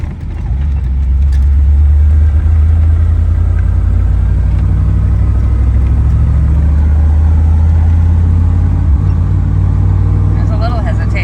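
A 1993 Ford F-150 pickup engine drones loudly and steadily while driving, a constant low rumble with a slight wavering in its pitch as the engine hesitates under partial throttle.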